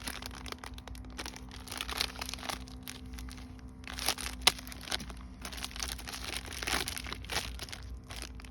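A plastic packet from a US military MRE ration (menu #17) crinkles and crunches in close handling, with irregular rustling bursts and a sharper crackle midway, no talking.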